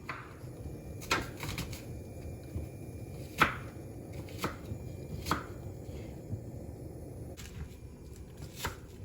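A knife chops red onion on a cutting board for curtido, with irregular sharp thuds, some quicker pairs, close and crisp over a quiet kitchen background.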